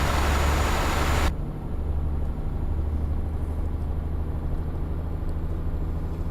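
Mercedes-Benz Actros MP3 598HP truck driving in Euro Truck Simulator 2 multiplayer, a steady low engine drone and road rumble from the cab, continuous and fairly loud.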